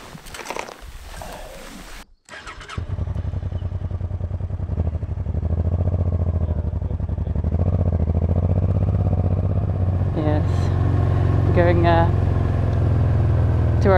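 A motorcycle engine starts and settles into a steady running drone that grows louder as riding begins on roads in Sweden, with wind noise and a few brief voices over it.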